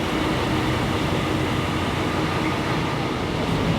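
A local train running between Singapore and Kuala Lumpur fills the cabin with a steady, dense rumble and rushing hiss, constant and enveloping with no talking heard.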